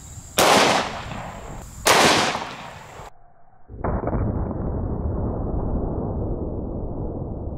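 Two sharp, loud gunshots from a .500 S&W Magnum revolver, about a second and a half apart, each striking a target; a steady rumbling wash of wind or handling noise follows after a short lull.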